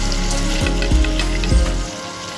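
Chopped tomatoes, salt and spices frying in a pan for a methi mutton keema, with a loud, dense crackling sizzle and a few soft thumps of stirring, tapering off at the end.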